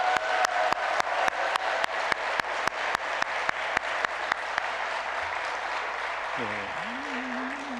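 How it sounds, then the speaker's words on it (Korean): Church congregation applauding during a Sunday worship service, steady rhythmic clapping in unison with sharp regular beats, giving way to looser applause as a voice speaks near the end. "우리 한번 하나님 앞에 영광 올려드리면 또 수고했다고 박수 한번 하시죠."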